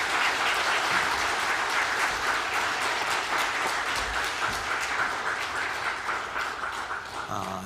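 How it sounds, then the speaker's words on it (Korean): A church congregation applauds during a Sunday worship service, a full steady wash of many hands clapping that holds strong and then slowly tapers off near the end. "박수로 격려해 주시기 바랍니다."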